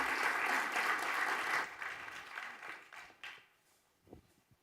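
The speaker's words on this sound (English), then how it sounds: "Please, a round of applause." Audience at a sustainable infrastructure conference panel applauds steadily for about a second and a half, then the clapping thins out and fades into scattered claps and quiet room noise.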